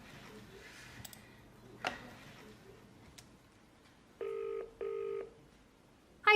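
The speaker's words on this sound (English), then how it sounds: "So I'll just give Sarah a ring" A telephone rings twice on an outgoing call, two evenly spaced electronic bursts following a few faint clicks in a quiet vet's room.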